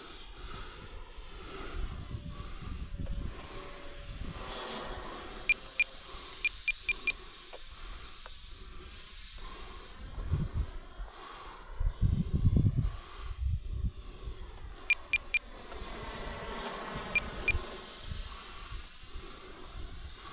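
A small RC ducted-fan jet running on a 3-cell battery flies overhead, giving a steady, fairly quiet whine and hiss that swells and fades as it passes, heard from a distance with faint wind.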